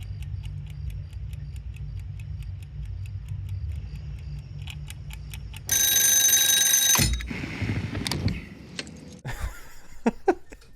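An alarm clock rings in a scene from the TV drama Better Call Saul, a loud continuous metallic ringing lasting over a second amid ticking and scattered clicks and movement sounds, with no talking.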